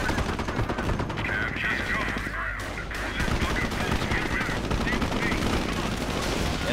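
Aircraft strafing run in the Company of Heroes game, American campaign, with dense continuous gunfire and rattling bursts filling the whole stretch at a steady, loud level, accompanied by a honking, squawking tone.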